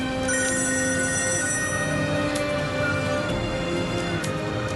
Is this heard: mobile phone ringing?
yes